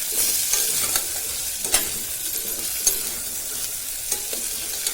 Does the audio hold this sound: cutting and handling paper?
no